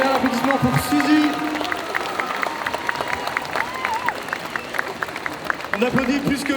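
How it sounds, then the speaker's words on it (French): A crowd at a group cosplay contest applauds contestant Suzy with dense, continuous clapping and cheering that carries under a host talking into a microphone. "Un tonnerre d'applaudissements pour Suzy."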